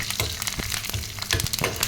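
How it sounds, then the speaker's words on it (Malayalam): Curry leaves dropped into browned onions frying in a pan for a fish curry, a brief bright crackling sizzle with sharp pops, close and steady. "ഇനി നമുക്ക് അതിലോട്ട് കരിവേപ്പില ആഡ് ചെയ്ത് കൊടുക്കാം."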